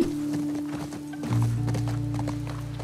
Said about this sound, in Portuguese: E eu tentando fazer o cavalo correr igual no Red Dead Redemption aqui.